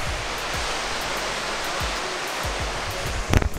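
Waterfall in the Aberdares, Kenya, a steady broadband rush of falling water that fills the whole clip at constant loudness, with a brief louder splash or knock near the end.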